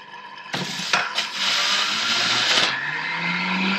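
A cucumber is juiced with an electric juicer, which starts abruptly and gives a loud, harsh whirring grind with a few knocks before settling into a steady motor hum.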